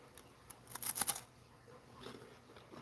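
A wafer cookie crunches in a few quick crisp bites close by, a short dense burst of brittle crackling followed by quiet chewing.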